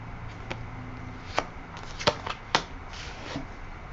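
Tarot cards are laid down one by one in a row on a table, producing a handful of soft, crisp slaps and slides spaced irregularly in a quiet room.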